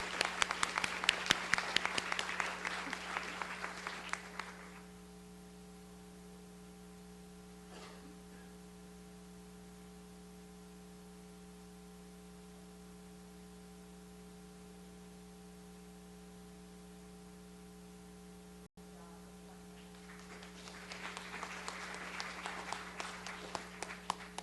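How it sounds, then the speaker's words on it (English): An audience at a school district board meeting applauds for students in two bursts, one at the start and one near the end, separated by a long stretch of quiet electrical hum. "give it a round of applause for our girls"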